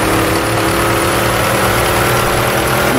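A 1927 Delage 15 S8 racing engine in Assetto Corsa runs at low revs in second gear, a loud, dense, steady mechanical drone with a buzzing rasp, continuous and unbroken.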